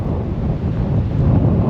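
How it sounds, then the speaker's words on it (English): Strong wind buffets the microphone in the open Sandhills, a loud, steady rumbling roar that runs alone for the whole stretch with no one talking. "All right, it's windy."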